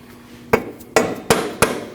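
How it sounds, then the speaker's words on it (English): Four sharp rubber-mallet taps drive a ball joint into the steering knuckle of a 2003-2008 Subaru Forester during lower control arm replacement, spaced about a third of a second apart, close and loud with no talk. "You can tap that with a rubber mallet."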